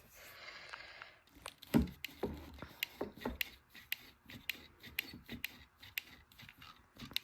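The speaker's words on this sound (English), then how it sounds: "I'm gonna clamp it here to make sure both sides are gonna hold together" Clamp being tightened on the glued joint of a vintage wooden coffee table during refinishing, a series of close, irregular ratcheting clicks and wooden creaks, quiet, with no talk.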